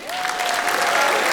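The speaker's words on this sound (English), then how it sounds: "Round of applause for married people." A comedy club audience gives a burst of dense, steady applause that fills the whole moment and stays loud throughout.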